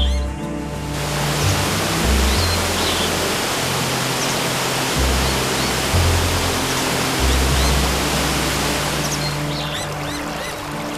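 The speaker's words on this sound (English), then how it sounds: "The abundant rainfall injects waterfalls and mountain streams," Waterfalls and mountain streams in the rain-fed Dan Ta wilderness rush in a loud, dense, unbroken roar that stays steady from start to finish.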